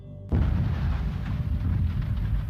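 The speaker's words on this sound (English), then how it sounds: "I'm just looking at a plane exploding because it was a controlled explosion" A plane blown up in a controlled explosion test in the UK lets out one sudden deep boom after a short quiet start, followed by a sustained heavy low rumble that carries on to the end.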